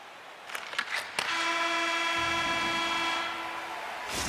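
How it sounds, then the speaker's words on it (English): An ice hockey arena horn at the end of a period in a finals game, one long loud sustained blast following a few sharp clicks, sounding out over crowd noise. "There's the horn. That means overtime is looming."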